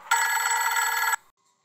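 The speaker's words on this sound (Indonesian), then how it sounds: "Sebentar guys ya, ada telepon ya guys." A telephone rings once indoors in a single loud, bright electronic trill lasting about a second, then cuts off into silence.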